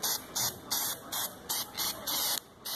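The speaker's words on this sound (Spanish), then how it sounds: "Ahora sí que este pegamento en aerosol es bueno." Permatex aerosol glue sprayed in short, even hissing bursts during oil pump work on a Chevy 1.4/1.6 engine: about eight quick, regular pulses at close range, with no talking.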